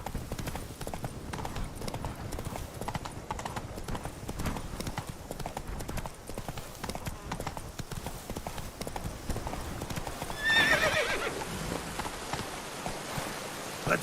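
Roach the horse gallops with fast, continuous hoofbeats in The Witcher 3, rain pattering underneath and a short whinny rising near the end, while a person talks at times.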